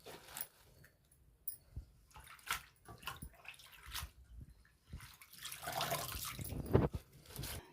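Tomato pieces being rinsed with water in a bowl, with intermittent splashes and drips that grow busier and louder toward the end, close by.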